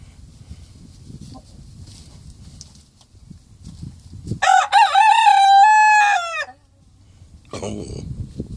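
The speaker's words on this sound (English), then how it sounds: "Oh, Rick James, why are you crowing right now?" A rooster crows once in a long, loud, close call rising and holding before cutting off, with quieter rustling and shuffling before and after.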